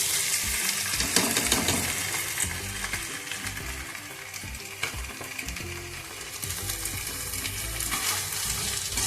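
Soaked, dried rice fries on a high gas flame for peas pulao, a dense continuous sizzle and crackle with intermittent scraping and clinking as it is stirred in the pan, with no speech.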